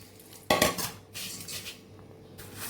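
Puffed rice is tossed with spiced onion in a metal bowl for Bengali jhal muri, with a sharp clatter followed by lighter scraping and rattling of the utensil and no voices.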